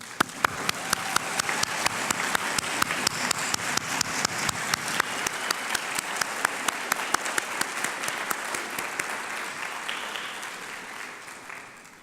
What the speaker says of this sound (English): let's start by giving them all a round of applause.